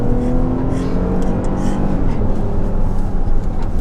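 A 2018 Lexus RX350L V6, fully loaded, pulls away from a stoplight, its engine giving a loud, steady hum and whir from inside the cabin with no break.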